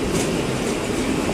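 A Pakistan Railways express passenger train passes close by in a steady roaring rush of wheels and carriages, with a rattling clatter and no break over the short stretch.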